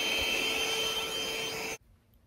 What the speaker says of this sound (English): It has a 2-stage pump process, so when you first start it, it's gonna sound pretty low.